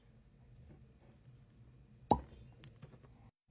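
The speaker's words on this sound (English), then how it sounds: "That was actually a really good cork pop" A single sharp pop of a cork pulled from a bottle of Wild Turkey Longbranch bourbon, a brief bright burst midway through an otherwise quiet room tone.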